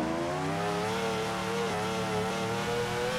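Ferrari 599 Formula Drift car with a 917-horsepower engine in Forza Horizon 4, droning at a loud, steady high pitch with a brief dip and recovery midway, heard alone without talk.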